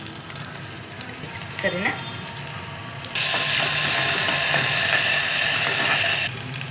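Ginger garlic paste hits a hot pan for chicken gravy and bursts into a loud, steady sizzle that runs for about three seconds, then cuts off abruptly. A voice speaks briefly beforehand.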